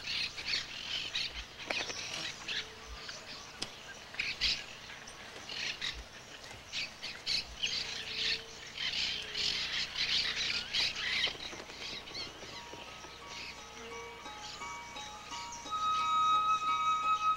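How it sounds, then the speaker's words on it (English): Monk parakeets squawk harshly and repeatedly from a large jabiru nest in the Pantanal, a busy, steady chorus of raspy calls with some higher chirps mixed in, loud and close throughout. "As many as 20 pairs of monk parakeets can live in a jabiru nest."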